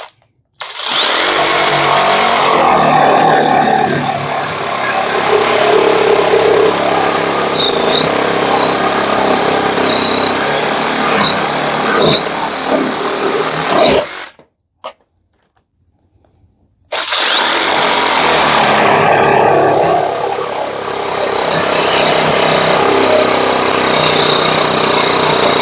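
A Parkside cordless reciprocating saw cuts through a 15 by 4 cm piece of wood clamped on a plastic workbench. A loud, rasping buzz runs for about fourteen seconds, stops briefly, then starts again for another long cut.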